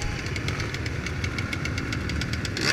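A Yamaha XT 200 trail motorcycle engine runs steadily nearby on a dirt trail, a loud, even, rapid mechanical thrum with a knocking pulse and no change in pace.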